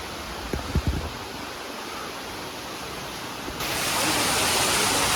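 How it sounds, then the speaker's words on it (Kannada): Heavy rain pours in a broad, steady roar, with a few dull thuds near the start, and grows noticeably louder partway through. "ಒಳ್ಳೆ ಮಳೆ."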